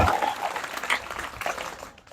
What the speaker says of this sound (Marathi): वाजवायच्या टाळ्या